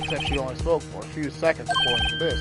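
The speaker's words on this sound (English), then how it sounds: "I heard a phone ring just now, one of those newfangled ringtones." A modern electronic phone ringtone from Phoenix Wright: Ace Attorney Trilogy rings as a steady high tone late in the moment, partly buried under continuous talking.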